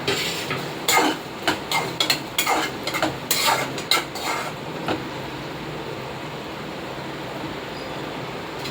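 Chopped tomatoes and green chilies drop into a hot pan, setting off a burst of sizzling and stirring clatter for a few seconds that then settles into a steady, quieter frying hiss.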